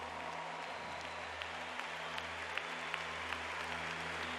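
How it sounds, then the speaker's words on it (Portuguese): A crowd at the Hosana Brasil religious camp applauds, a faint, distant wash of clapping under a steady low hum from the sound system. "vamos aplaudir o Senhor"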